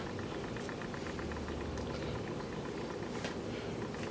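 Fresh pasta cooks in a pot of boiling water, giving a steady, close bubbling roar with dense gurgling that holds even across the whole stretch, with no voices.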